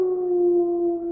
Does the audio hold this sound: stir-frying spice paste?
no